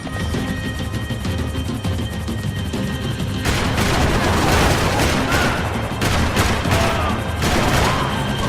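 Dense, sustained gunfire from the video game Max Payne 3, quiet at first and then bursting into a loud, continuous barrage of rapid shots and booms that fills the rest of the clip.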